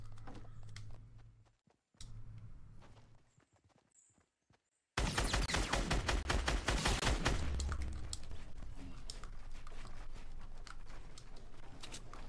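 Video game gunfire breaks out after a few quiet seconds: a loud, dense run of rapid shots and bursts that keeps going to the end, close and unbroken.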